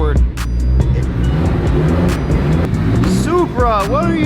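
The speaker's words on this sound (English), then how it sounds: "clutch in, first gear, car is starting to roll forward" Car rolling forward in first gear with the clutch in, a low engine rumble close by with a small rev near the end, heard under talking.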